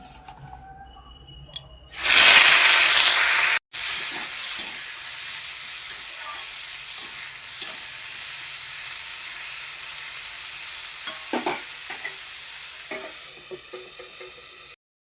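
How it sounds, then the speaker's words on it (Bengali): Broccoli drops into hot oil with a sudden loud hiss, then settles into a steady, close sizzle that continues alone for several seconds. "তেল চলো গরম হয়ে গেছে, বেগুনটা ভেজে নিয়েছি, এবার ব্রোকলিটা ভেজে নিই"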